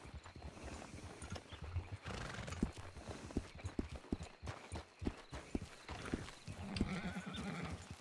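A horse in the RedM video game neighs and whinnies while its hooves clip-clop in a steady walking rhythm, close and clear, with only a little talk.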